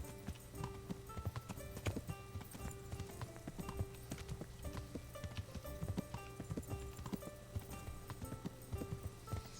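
Horse hooves clip-clop in the medieval video game Kingdom Come: Deliverance, a steady, quiet rhythmic trot over a faint musical and ambient bed.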